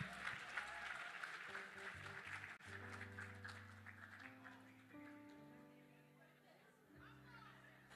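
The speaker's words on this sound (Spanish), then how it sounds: "Un aplauso a mis angelitos." A church audience claps over sustained organ or keyboard chords, the applause strongest at first and then thinning out as the music carries on, heard faint and distant.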